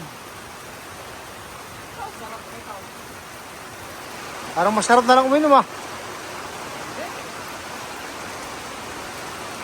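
Steady rain falls in Dingalan, Aurora as a broad, even hiss throughout, with a brief spoken voice in the middle.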